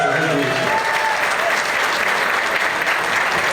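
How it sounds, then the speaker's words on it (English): Applause at an NYPD Muslim Officers Society annual scholarship event for Captain Rana: a sustained, dense round of clapping from a crowd, steady and fairly loud for the whole stretch, with a few voices faintly audible early on. "Let's give Captain Rana a round of applause for his leadership."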